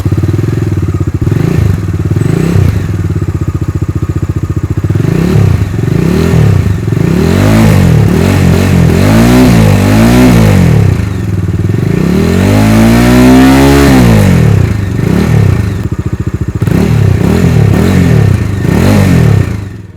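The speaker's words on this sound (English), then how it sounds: "you've got to hear the sound of the engine. It reminds you of the Dominar 400." A Bajaj Dominar 250 motorcycle engine idles and is blipped repeatedly, loud and close, with a series of sharp revs rising and falling in pitch and one longer high climb near the middle, no talking over it.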